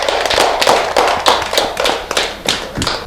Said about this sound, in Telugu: ఓకే క్లాప్స్ గట్టిగా క్లాప్స్